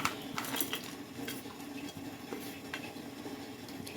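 A spoon scrapes and clinks around a pot of sweet jaggery mixture, with quick irregular metallic taps and scraping, fairly close and steady throughout.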